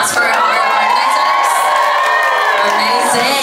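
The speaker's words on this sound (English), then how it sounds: "Can we get a round of applause for our" A crowd at a K-pop dance event cheers and screams in a loud, dense, continuous roar of high voices and whoops with no pause throughout.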